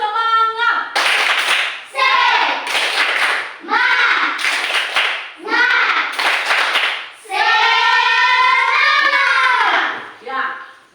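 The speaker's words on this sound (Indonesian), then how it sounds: "Tepuk semangat." A classroom of children performs a rhythmic 'tepuk semangat' spirit clap, bursts of clapping alternating with loud chanting and a teacher's voice, close and energetic throughout.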